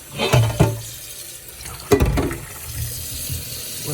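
Cold water runs from a kitchen tap into a clean sink holding beets, in short splashy bursts with clatter and handling noises between, close by and without talk.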